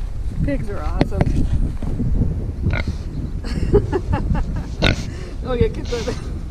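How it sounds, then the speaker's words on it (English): Repeated close grunts and oinks come from a pig at a state park farm, scattered irregularly over steady wind rumble, with a few louder snorts standing out. "Pigs are awesome."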